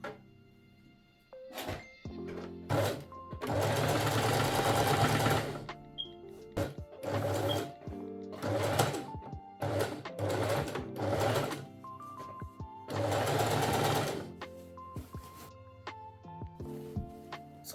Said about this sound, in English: we get to sew like so and like this